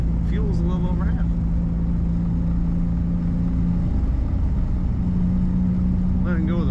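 A 1964 Lincoln Continental sedan engine idles smoothly, a steady low hum heard from inside the car, with a voice talking over it.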